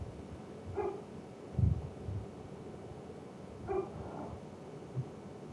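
A dog barks in the background of a quiet room, giving a few short, faint barks spaced irregularly over several seconds.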